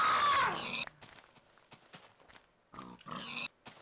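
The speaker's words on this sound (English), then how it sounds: "Should we kill these pigs? Look at all these pigs." Pigs oinking in a survival video game: a loud squeal at the start, then short grunts and footstep-like taps, with another squealing grunt near the end.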